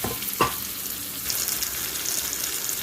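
Oil sizzles and crackles steadily in a hot pan while pounded chili and garlic are stir-fried, with a brief scrape near the start and no voices.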